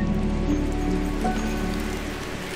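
Heavy rain falls in a steady, dense wash on surfaces, close and continuous throughout with no talk over it.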